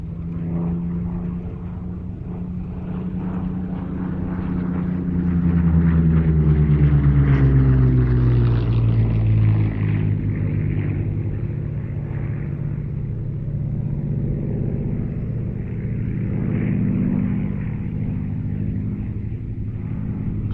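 A Warhawk fighter flies overhead at a Duxford air display, its piston propeller engine a loud continuous drone that swells as it passes close, its pitch sliding down, then settles into a steady rumble.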